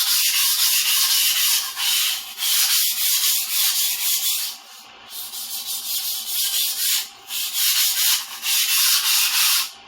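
Vintage 14-inch Ontario chef knife drawn in long, steady strokes across a sharpening stone, a close, continuous gritty rasp with brief breaks between passes and no talking.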